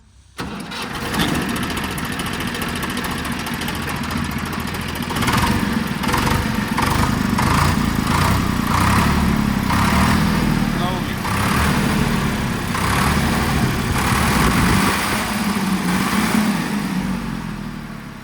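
A Swaraj 855 tractor engine cranks and catches, then settles into a loud, steady, rough diesel idle with rhythmic knocking pulses, close by and continuous to the end.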